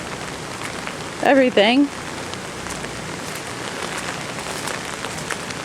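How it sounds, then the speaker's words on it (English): Steady rain falls outdoors during Hurricane Ike, a constant wash of drops on a garden walkway, with a brief spoken word near the start. "Still raining and"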